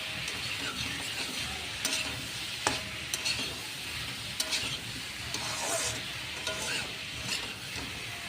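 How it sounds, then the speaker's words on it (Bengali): Boiled taro stems and potatoes are being fried with turmeric in a pan, giving a moderate steady sizzle with occasional sharp ladle clicks and scrapes from stirring, fairly close. "এই যে হলুদ দিয়ে দিলাম পরিমাণ মতো, ভালো করে কষিয়ে নেব।"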